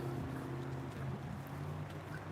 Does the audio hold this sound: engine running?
yes